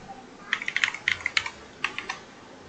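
A run of crisp keystrokes on a computer keyboard, close and clear, falling in two quick clusters of taps with a brief pause between them while writing code in Dart and Flutter.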